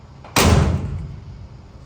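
A Holden Torana hatch door closes with a single solid, close thump that rings out briefly and fades.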